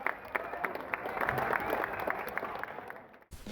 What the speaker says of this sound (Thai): ขอเสียงปรบมือให้กับนักกีฬาทั้งสองที มครับ